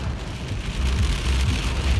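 Heavy rain pours steadily during a storm near Montreal, a dense continuous hiss drumming on a surface, loud and close with a deep rumbling undertone.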